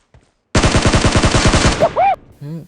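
Automatic rifle fire in PUBG Mobile: a rapid burst of about a dozen loud, close shots in steady rhythm, then a short metallic ring and a brief voice-like game sound after.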